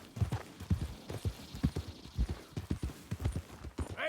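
Rapid clip-clop of horse hooves trots steadily nearby in the video game Red Dead Redemption 2, an uneven rhythmic pattern of hoofbeats with no talking.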